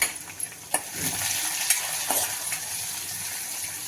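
Chili powder frying in a hot spice tempering for a chickpea-leaf vegetable dish, a dense close sizzle broken by several sharp spoon clinks and scrapes against the pan, with no talking.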